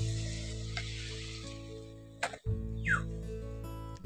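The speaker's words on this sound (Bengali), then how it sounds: "ওর মধ্যে আমি একটু একটু করে মালপোয়া ভেজে নেব" Spoonfuls of sweet potato malpua batter sizzle softly and steadily in hot oil, with one brief clatter partway through and no talking.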